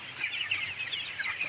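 Chickens on a poultry farm cluck in a steady overlapping chorus, close and continuous, with no talk.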